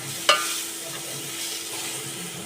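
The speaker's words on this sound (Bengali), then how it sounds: "এবং আলুগুলো হালকা ফ্রাই করে নেব লাল রং ধরা পর্যন্ত" Potatoes lightly frying in hot oil in a home kitchen pan, a soft steady sizzle with one sharp clink of the stirring utensil near the start, no talk.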